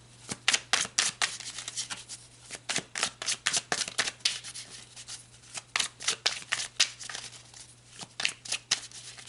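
A deck of tarot cards is shuffled by hand in a burst of crisp riffles and snaps, each close and distinct, with brief pauses between, and no voices.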